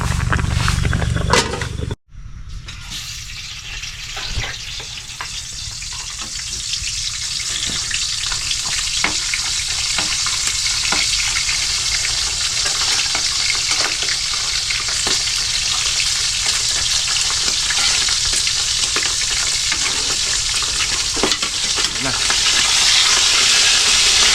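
Food sizzles and crackles steadily in a hot pan, a continuous loud hiss with scattered pops throughout.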